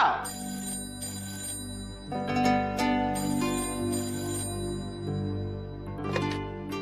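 A telephone rings in a Hindi TV serial scene, sounding as repeated electronic ring bursts under soft background music, with no one speaking.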